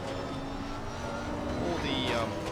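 A race car engine at full throttle around Monza in the racing game Assetto Corsa Competizione drones steadily, its pitch swooping near the end, beneath a voice.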